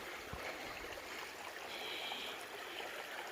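Creek water runs steadily over rocks along a Virginia trail in the creek bed, a soft, even rushing with no talk over it.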